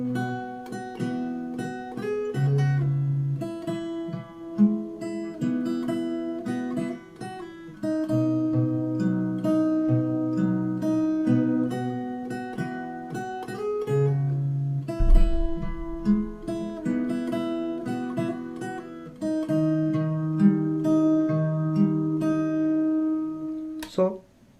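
Fingerstyle guitar plays the chorus of a song, a gentle melody over plucked bass notes and chords, moderately quiet and steady throughout, with no voices.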